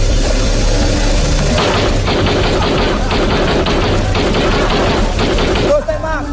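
Staged gunfire on an Indonesian comedy television show rattles in rapid bursts like automatic fire, loud and dense over music and crowd noise, fading abruptly near the end.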